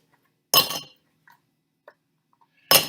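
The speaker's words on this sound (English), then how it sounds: "I'm just going to add my ice cubes now into my highball glass here." Ice cubes dropped into a highball glass for a paloma cocktail, two bright clinking clatters a couple of seconds apart with faint small ticks between, close and alone.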